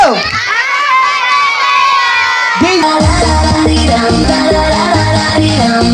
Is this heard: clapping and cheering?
yes